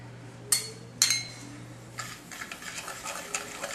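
Dry cornstarch, sugar, allspice and cinnamon stirred together with a whisk in a bowl for a cherry cobbler, two sharp clinks of metal on the rim and then a soft, quick scratchy whirring, close and alone.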